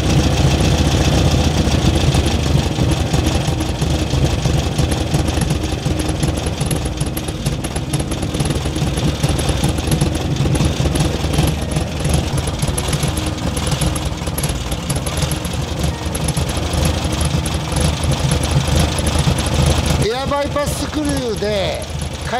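An air-cooled Volkswagen Beetle engine idles steadily during carburetor adjustment, a continuous close mechanical drone with an even low throb, while someone talks over it throughout.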